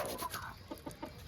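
A chicken clucks nearby in a few short, separate calls that stand clearly above a quiet background.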